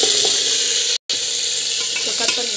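Mustard seeds and curry leaves sizzle loudly in hot oil, a dense, bright crackling hiss that stays close and steady, with a brief cut near the middle.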